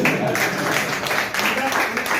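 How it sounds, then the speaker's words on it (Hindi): Seminar audience applauding at a motivational talk, a dense, steady wash of clapping that holds at an even level for the whole stretch. "ताली बजा लो,"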